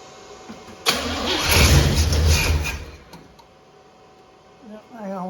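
A 1977 Pontiac Grand Prix engine cranks, then catches with a sudden loud roar. It runs rough and strong for about two seconds before sagging to a quieter idle, recorded close up.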